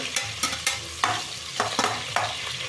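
Onions frying in oil for chicken pulao, a bright steady sizzle broken by rhythmic scraping strokes of a spoon stirring the pan, close and with no voices.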